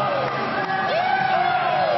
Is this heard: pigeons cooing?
no